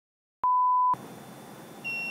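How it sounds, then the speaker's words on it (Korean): A single sustained electronic beep from an Arduino buzzer triggered by an ultrasonic distance sensor, steady and fairly loud, lasting about half a second, followed by a quieter hum and a faint high tone. "이런 식으로 부저 소리가 울리는 걸 한번 만들어 봤어요"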